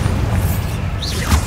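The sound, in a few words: Confringo blasting spell in video game Hogwarts Legacy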